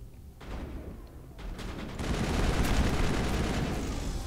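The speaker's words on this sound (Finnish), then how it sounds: "Kuka vittu mua ammuskelee?" Gunfire in the video game Mass Effect: bursts of rapid shots that build into continuous heavy firing, loud and dense, with no talking.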